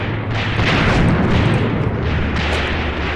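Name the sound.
enemy gun firing in the video game Graviteam Tactics: Mius Front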